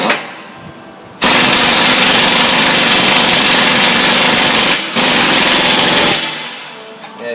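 Axle bolts on a Ford are driven tight with a powered tool. Two long, very loud, harsh hammering bursts roar close up, with a short gap between them.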